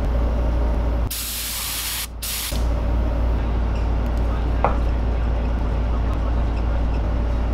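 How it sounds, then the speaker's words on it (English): An airbrush sprays gold paint onto a handmade white bass swimbait, a sharp hiss lasting about a second and a half with a short break in the middle, over a steady background hum from a compressor or fan. "I just sprayed all the copper out of the brush and added some gold"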